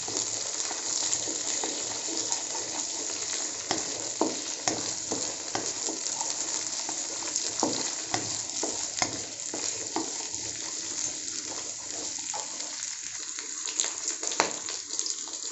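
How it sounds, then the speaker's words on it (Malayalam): Onion and capsicum sauté for kadai paneer, a constant close sizzle of hot oil with repeated clattering stirs of a spatula in the pan and no one speaking. "അതുകൂടെ ചേർത്ത് കൊടുത്ത് ഒന്ന് നമുക്ക് വഴറ്റിയെടുക്കണം."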